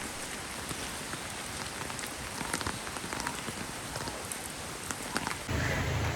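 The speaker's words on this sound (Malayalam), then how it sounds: "എന്തായാലും മഴയല്ലേ വെയിലല്ലല്ലോ" Steady rain patters on an empty road, a dense even hiss with scattered louder drops, and a slightly heavier burst near the end.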